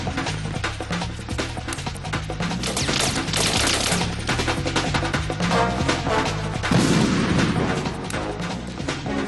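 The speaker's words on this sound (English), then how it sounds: "Stun grenade." A stun grenade goes off during a firefight in Metal Gear Solid 2, amid dense, continuous game gunfire and booming blasts, loud and close with no pause.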